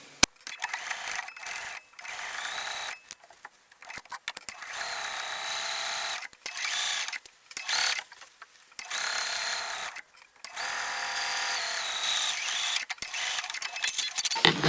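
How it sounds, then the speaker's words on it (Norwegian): A sewing machine stitches a dress seam in bursts of steady whirring, pausing briefly between runs, close and moderately loud with no talking. "og så syr jeg"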